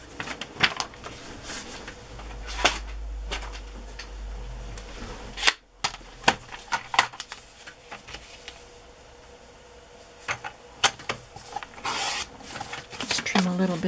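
Pages of a handmade traveler's-notebook journal are trimmed by hand, with quiet, close rustling and a series of sharp snips and taps scattered unevenly, and a soft voice speaks in between.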